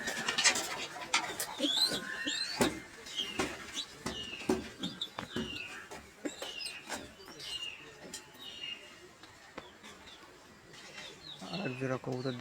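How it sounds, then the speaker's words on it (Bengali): Pigeons in a loft, including a pair sitting on eggs, give soft repeated coos and occasional flutters close by, and a person talks over them. "আর এক জোড়া কবুতর দেখুন, লক্ষা, ডিম পেড়ে বসছে।"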